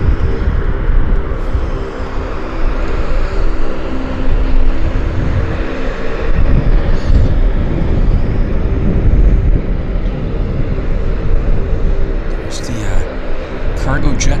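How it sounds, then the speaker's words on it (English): Cargo jets at Vancouver YVR airport make a steady, heavy background roar of engine rumble and broadband noise that runs through the whole stretch, with voices at times. "cargo jets in the background"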